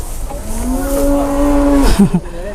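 A very large cow gives one long, loud moo up close, holding steady for over a second before breaking off, with scuffling noise after.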